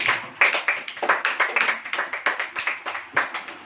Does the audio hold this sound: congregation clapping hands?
yes